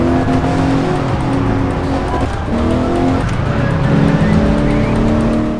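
Car in the Alarm für Cobra 11 racing video game, engine revving loudly with repeated tire squeals sliding up and down in pitch as it takes corners, close and continuous with no talk.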